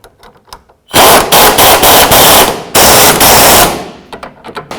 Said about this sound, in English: We've got a 17mm socket. Just want to snug them up.